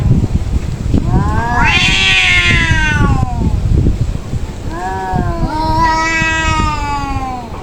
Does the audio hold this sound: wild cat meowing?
yes